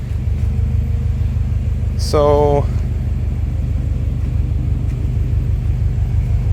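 Turbocharged Subaru Forester engine idling steadily with a low, continuous rumble, close by, while someone talks over it; a brief higher whine cuts in for a moment partway through.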